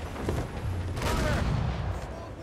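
A ship's cannon broadside thunders in the Assassin's Creed Rogue naval combat, a burst of heavy booming shots rolling together, loudest in the middle and fading as voices sound faintly nearby.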